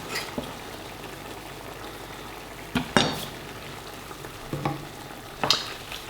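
Mushrooms and rosemary gently frying in a pan for a mushroom risotto, a steady soft sizzle with a few sharper stirring scrapes and clinks, close and alone.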